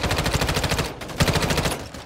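Rapid automatic gunfire from the Warzone Mobile shooter game, sustained bursts of close, loud shots with a brief pause midway before firing resumes.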